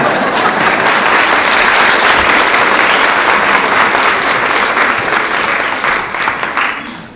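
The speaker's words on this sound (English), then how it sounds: "please give her a round of applause" A round of applause at a town council meeting, dense and loud clapping from the room that holds steady and then tapers off at the end.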